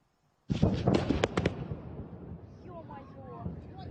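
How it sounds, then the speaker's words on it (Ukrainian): A sudden burst of loud explosive bangs and crackles erupts after a moment of silence in Crimea, then rumbling fades under distant shouting voices of frightened holidaymakers. "Але ці вибухи не на жарт перелякали відпочивальників"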